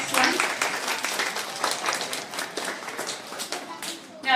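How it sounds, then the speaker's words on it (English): Children applauding at a reading event, a burst of clapping and tapping that runs on with voices mixed in and fades near the end. "Give yourselves a round of applause."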